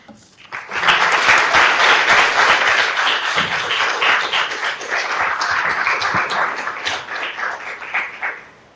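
A lively audience breaks into sustained applause welcoming a returning speaker to a university gathering in a pink parlor, dense clapping that swells quickly and holds steady for several seconds before tapering slightly.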